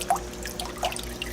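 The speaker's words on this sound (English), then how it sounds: "I have a lot of water flow with the high mode" A Jebao WP40 aquarium wave pump runs on high mode, moving the tank water with faint drips and small splashes over a low, steady hum. The sound is quiet and close.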